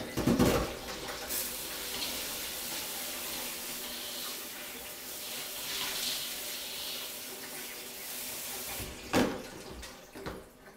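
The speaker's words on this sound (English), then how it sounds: "Discard the water, rinse the bowl here." Water runs steadily for several seconds as soaking water from sprouting seeds is poured off and a bowl is rinsed at a sink, a continuous splashing rush with a brief thump at the start and handling noises at the end.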